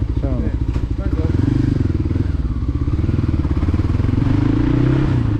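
A motorcycle with a faulty clutch that will not disengage, on a solo ride across the Tibetan Plateau, its engine thumping in a steady loud close chug with a clattering rhythm, holding a constant idle-like pulse throughout.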